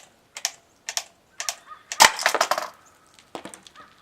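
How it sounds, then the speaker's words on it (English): Sharp plastic clicks from an airsoft M18A1 Claymore mine come in an uneven series, some crisp and separate, with one louder cluster of snapping clatter partway through, close up with no talking. "I hear it clicking, it just doesn't want to set it off."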